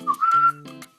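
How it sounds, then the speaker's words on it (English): The classic whistled tune from the West Side Story (2021) trailer, a short bright human whistle gliding up and holding, then two quick follow-up notes, clear and alone without talk. "whistle, that classic whistle."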